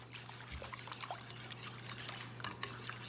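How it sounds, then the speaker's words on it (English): Active sourdough starter whisked into water in a bowl, giving soft, faint liquid swishing and trickling sounds with a low steady hum underneath. "We're gonna go ahead and whisk the active starter into the water, get it all nice and milky looking."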